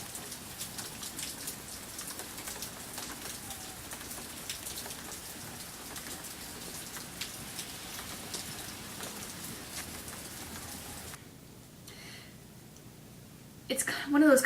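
Steady rain patters on surfaces outdoors on a cold day, a soft even hiss that runs for most of the stretch before fading near the end, with a brief louder rustle at the close.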